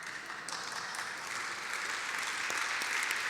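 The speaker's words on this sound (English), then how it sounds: "that applause was led by a former tour guide at Monticello" Steady, dense audience applause fills the room at a literary awards celebration in Virginia, continuous and even throughout without a break.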